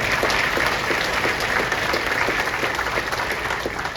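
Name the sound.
audience applause for the Democrats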